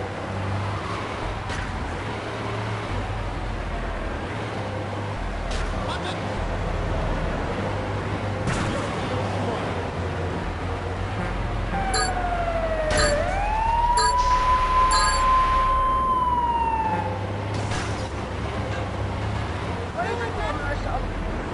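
A fire engine siren from Grand Theft Auto 3 wails and sweeps in the middle of the stretch while the truck drifts, rising and holding a high tone over engine rumble and a talking voice.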